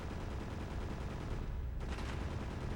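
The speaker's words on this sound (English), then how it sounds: "I hear gunfire. Oh, that turret's also firing now." Turret gunfire in a video game, a dense continuous rattle of rapid shots filling the whole moment at moderate loudness, with no talking.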